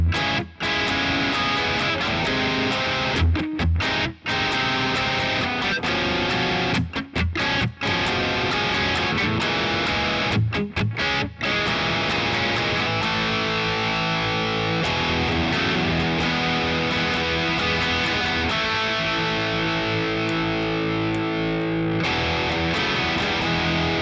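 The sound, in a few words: guitar playing song verse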